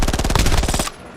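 Rapid automatic gunfire in the video game Warzone, a loud, fast string of shots that cuts off abruptly, followed by faint mechanical clicks.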